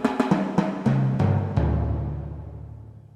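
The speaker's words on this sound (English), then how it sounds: "SRX Orchestra's patch sounds like this." Timpani from a Roland SRX Orchestra 4-way timps synth patch: a quick string of booming drum strokes at shifting pitches, then sustained rolls and a long ringing decay, played alone.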